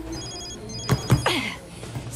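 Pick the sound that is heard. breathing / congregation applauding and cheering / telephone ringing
telephone ringing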